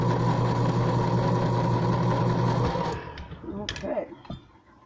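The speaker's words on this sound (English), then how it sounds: "Sorry for the noise. I didn't open the can ahead of time." Electric can opener grinding open a can of cherry pie filling in a kitchen, a steady motor whir for about three seconds that cuts off, followed by faint clicks and metal handling sounds.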